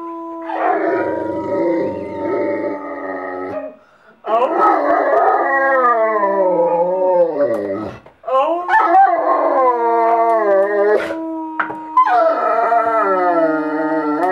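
A dog howls in long, wavering, drawn-out cries that rise and fall, close and loud, with brief pauses between howls and a few yipping breaks.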